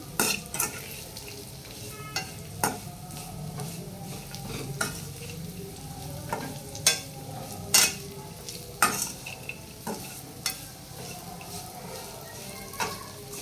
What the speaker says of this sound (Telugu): లో ఫ్లేమ్లో వేయించాలి.